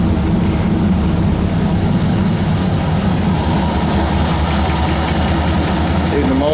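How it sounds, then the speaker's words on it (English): A 1960 Ford F100 pickup truck engine idles with a steady, low rumble, close and continuous throughout, without any revving, after an exhaust leak repair. "the motor sounds a lot better now."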